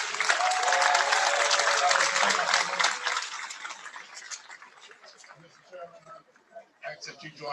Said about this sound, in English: Let's give Attorney Sellers another round of applause.